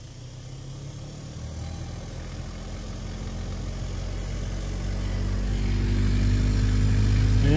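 A noisy blower fan motor in a Honda Civic gives a steady mechanical drone that grows gradually louder over several seconds, with no talking.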